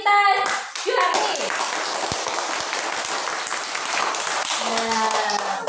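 Classroom applause for a classmate, a burst of many hands clapping that swells quickly and then carries on as a dense patter, with voices talking over it at the start and end.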